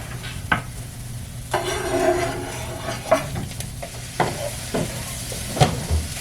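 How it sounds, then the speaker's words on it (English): Mushrooms and softened, lightly browned shallots fry in a pan, with a steady close sizzle broken by several sharp scraping stirs spaced a second or so apart. "Once your shallots are softened and slightly browned, you're gonna add your mushrooms."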